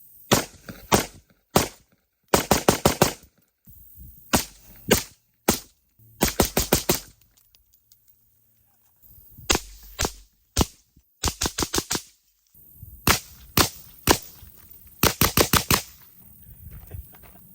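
Suppressed shots from a PSA Saber 15 rifle with a 13.7-inch barrel and a Dead Air Lazarus 6 suppressor ring out in quick strings of sharp, close reports, separated by short pauses.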